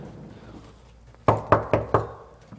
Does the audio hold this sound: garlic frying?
no